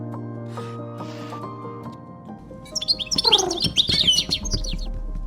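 Java sparrow chicks in a nest give high, rapid cheeping and chirping that swells in the second half, over a steady low hum and faint rubbing sounds, no voices.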